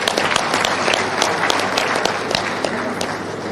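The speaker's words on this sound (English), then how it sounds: "please give yourself a hand of applause" A large crowd at an annual accountants' conference applauds loudly, thick sustained clapping with sharp individual claps standing out, close and continuous throughout.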